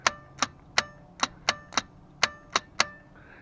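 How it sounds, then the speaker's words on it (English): A failing starter solenoid on a Jaguar MK2 clicks sharply, about ten evenly spaced metallic ticks close by, crisp and isolated against a quiet background. "You can feel the clicking in here in the solenoid."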